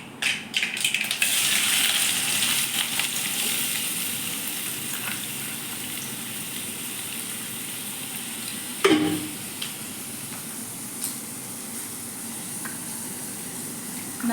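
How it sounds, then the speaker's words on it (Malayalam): Chopped onions hit a pan of hot oil with curry leaves and fry in a loud initial sizzle that settles into a steady hiss, with one or two spoon scrapes partway through, close up and without voices. "നമുക്ക് അരിഞ്ഞ് വെച്ചിരിക്കുന്ന സവാള അതിലോട്ട് ആഡ് ചെയ്യാം."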